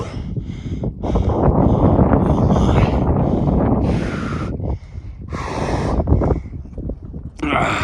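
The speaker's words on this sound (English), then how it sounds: "It's getting a little breezy up here." Gusty wind buffets the microphone on the exposed Knife Edge ridge of Mt Katahdin, a loud, rough roar that swells and drops in bursts, with close breathing and a voice in between.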